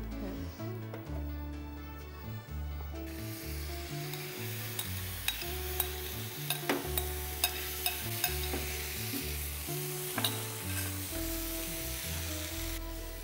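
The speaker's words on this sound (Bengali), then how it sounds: "এবার চিকেনটা ছেড়ে দেবো যে ম্যারিনেটেড চিকেনটা আছে" Marinated chicken sizzles and fries steadily in a hot pan, a continuous hiss broken by occasional sharp spatters and clinks, with background music running underneath and no talking.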